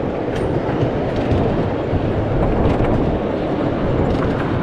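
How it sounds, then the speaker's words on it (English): Loud, steady rumbling and clattering of a roller coaster train hauled up a cable lift hill at Linnanmäki, Helsinki, a continuous mechanical roar with no talking. "Nice and fast up the lift hill with it being a cable"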